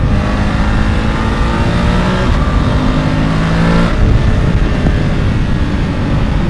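A BMW F850 GS mid-size adventure motorcycle with a roughly 90-horsepower engine accelerates hard, its loud, close engine roar rising steadily with no pauses.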